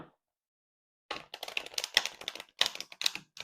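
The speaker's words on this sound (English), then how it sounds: "All right, let's shuffle." A burst of rapid, crisp papery riffling and tapping as tarot cards are shuffled starts after a second of silence, continuing in uneven flurries, close and fairly loud with no talking.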